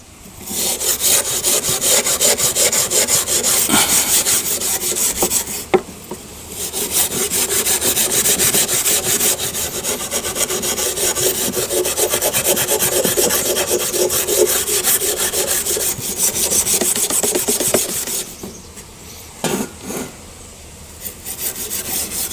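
A file rasps over the blades of a pair of hedging shears in long, loud, rhythmic strokes at close range, pausing briefly around the middle and again near the end before the strokes resume.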